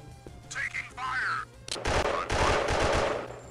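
Gunfire in the mobile shooter game Special Soldier, rapid bursts of loud automatic shots crackling densely in the second half, preceded by quieter electronic game sounds, with a voice briefly audible.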